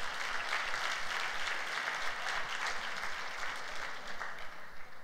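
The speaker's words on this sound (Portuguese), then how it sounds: "Então dá um aplauso ao Senhor aí" Church congregation applauding the Lord during a Sunday service, a steady dense wash of many hands clapping that fills the whole stretch, fairly loud and close with no talk over it.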